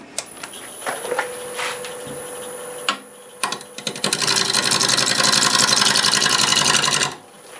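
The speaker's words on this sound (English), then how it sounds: "We're doing about 700 RPM now, 5/8 bowl gouge." Wood lathe spinning at about 700 RPM as a 5/8 bowl gouge cuts a dry, hard box elder bowl: light intermittent scraping at first, then a loud, steady chattering cut from about four seconds that stops abruptly near the end.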